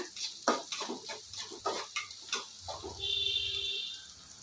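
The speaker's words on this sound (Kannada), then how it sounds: "ಈರುಳ್ಳಿ ಚೆನ್ನಾಗಿ ಫ್ರೈ ಮಾಡ್ಕೊಳ್ಳೋಣ" Onions fry in a pan for a ridge gourd palya, stirred with a utensil that makes a quick series of close metallic scrapes and clicks, followed by a softer steady sizzle and a short high ringing tone.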